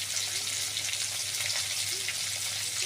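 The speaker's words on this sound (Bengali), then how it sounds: "সুন্দর করে লতিটাকে নাড়াচাড়া করে ভেজে নেব।" Taro stolons (lati) with chili powder and salt frying in a pan over a gas flame, a steady, even sizzle that holds throughout with no talk.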